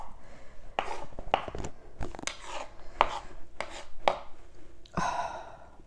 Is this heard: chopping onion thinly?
yes